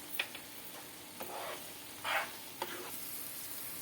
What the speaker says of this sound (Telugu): 4 స్పూన్లు కారం తీసి పెట్టుకున్నాను కదా, ఎండు కారం, ఆ కారం వేసేస్తున్నానండి.